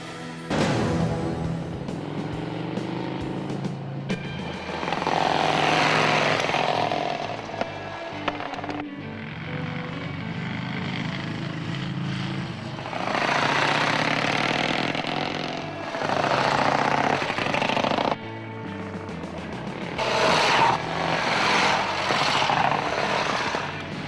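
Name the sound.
Vincent Black Shadow motorcycle riding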